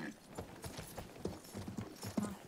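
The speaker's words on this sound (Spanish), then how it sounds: "Me voy con el caballo." Horse hooves clip-clopping in the Battlefield 1 video game, a quick irregular run of hard hoof knocks fairly close, over a busy low background.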